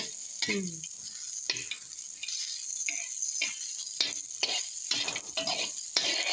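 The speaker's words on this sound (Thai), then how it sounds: "คั่วทั้งพริกทั้งกระเทียมทั้งหอมแดงอะไรเนาะ" Chilies, garlic and shallots stir-roasting together in a pan for Thai tilapia chili paste, a steady sizzle and fry with repeated scraping and stirring strokes, close up and without talk.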